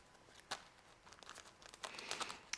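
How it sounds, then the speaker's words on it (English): Tarot cards being shuffled by hand, quiet papery riffles and crinkly rustles in irregular bursts, one sharper snap early on, no voice over it. "just while I'm shuffling the cards here for you"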